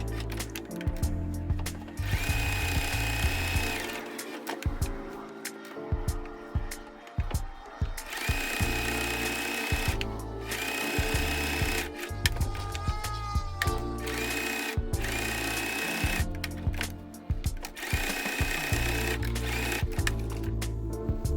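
A sewing machine stitches around tote bag pocket pieces in repeated bursts of fast, close mechanical whirring, separated by short pauses and handling sounds.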